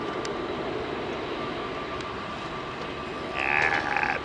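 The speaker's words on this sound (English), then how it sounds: "Big jets." A big jet aircraft at Heathrow Airport, its engine roar a steady, broad rumble that swells louder near the end as a higher whine rises over it.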